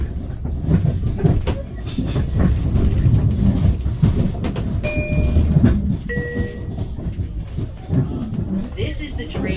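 Long Island Rail Road train #9013 on the Jamaica to Grand Central run, heard from inside the car as a steady rumble and rattle with clicks, brief tonal squeals and people talking throughout.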